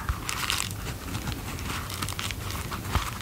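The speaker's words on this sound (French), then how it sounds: "Elle a mis du papier bulle pour garder la forme." Close, continuous crinkling of bubble wrap being handled, a dense rustle of small crackles with no talking.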